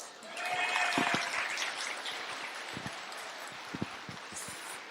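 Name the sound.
audience applause, boys clapping for girls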